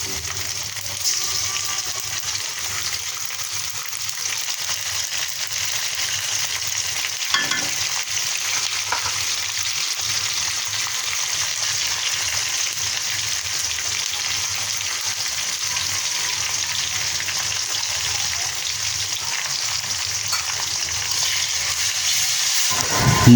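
Spices for goat tripe curry frying in a pan, a continuous dense hiss and sizzle holding steady and close for a long stretch, with a couple of faint clinks and no voices.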